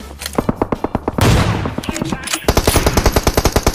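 Rapid automatic gunfire in the mobile battle-royale game PUBG Mobile, loud and close, with bursts of regular shots, a brief blast of noise in the middle, then another fast string of shots.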